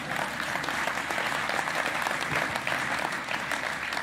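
An audience at a political campaign meeting applauds steadily, a dense, even wash of clapping that holds at a constant level for the whole stretch, with no talk over it.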